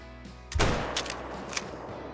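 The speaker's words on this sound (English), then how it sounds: "Perfect shot, dropped him." Single hunting rifle shot in Call of the Wild set in Australia, a sharp close blast with a rolling echo tail fading over a second or so, with no talk.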